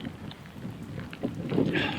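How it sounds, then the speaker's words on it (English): Stormy weather on Trotternish, Isle of Skye: wind buffets and rain patters in a steady, fairly faint rush that swells toward the end, with no one talking. "It's windy, it's rainy, it's cold"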